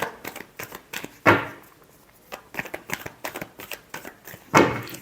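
Tarot cards are shuffled by hand in quick riffling bursts of dry, papery flicks, with two louder full riffles standing out between lighter taps and slides, close and clear with no talk.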